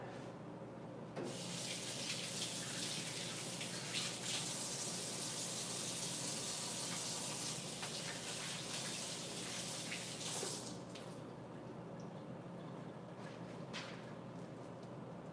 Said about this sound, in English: Need to rinse my hand off just a second